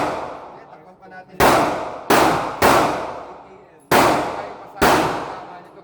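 Five sharp gunshots from a firearm being test-fired at an indoor firing range, loud and close with irregular spacing and a short ringing decay after each shot, no talking.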